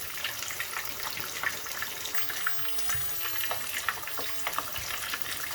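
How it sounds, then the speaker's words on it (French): A sauce simmers steadily in a pan, giving a soft continuous sizzle with scattered small crackles and bubbling pops at a moderate, even level, with no talking. "notre sauce continue à mijoter tranquillement"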